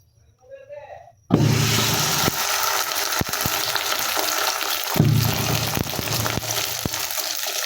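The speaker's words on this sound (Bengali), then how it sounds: "সকালে পানি ভাত খাবো, এই জন্য ডিম ভাজি করে নিতেছি।" Egg frying in a pan of oil bursts into a loud, steady sizzle after a short quiet stretch, with a brief voice at the start and a few sharp ticks and clatters over the hiss.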